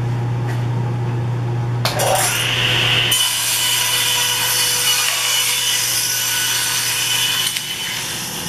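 A power saw cuts through a laminate table top, a loud sustained whining rasp that starts after a brief lead-in and runs steadily to the end, with no one talking.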